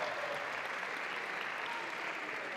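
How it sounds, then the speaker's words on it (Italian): Audience clapping steadily at a youth football club's Christmas greetings event in Italy, a dense, even wash of applause lasting a few seconds without letting up. "Un applauso più forte,"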